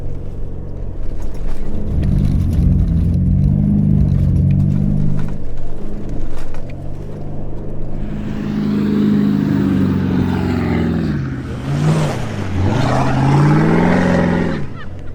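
A 4WD climbs the hard left line of the Big Red sand dune in the Simpson Desert, its engine droning loudly and close, then revving harder with a rising, straining pitch as it labours up the slope.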